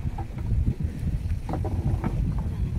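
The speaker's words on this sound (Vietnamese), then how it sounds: "Quá trời gió rồi." Strong wind buffets a small boat on open water, a steady loud rushing roar with microphone gusts and faint splashes, no talking.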